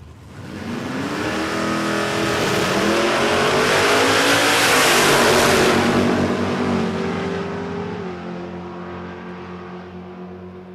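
A nitro drag racing car, a big red Mustang, roars down the strip at Warwick Dragway in Australia during qualifying, the engine rising to a loud, harsh scream at mid-run and then fading away into the distance.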